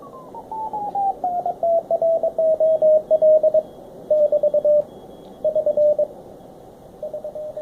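Morse code CW signals on the 40 m ham radio band come through a 700 Hz filter as a clear single-pitch tone keyed in rapid dots and dashes, in bursts with short gaps, over faint background noise.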